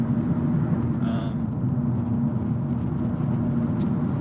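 Steady low road rumble and engine drone from inside a moving 2015 Mazda 3 hatchback, continuous and fairly loud throughout with no talk over it.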